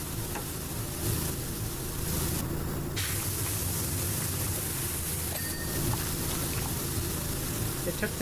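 A pressure washer nozzle sprays water steadily in PowerWash Simulator 2, a continuous broadband hiss that stays loud and even throughout, with brief shifts in tone as the stream moves.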